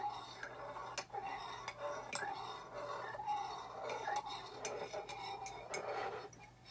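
A teaspoon stirs tea in a cup, giving soft, irregular clinks and light ticks against steady low background hum while a quiet voice talks throughout.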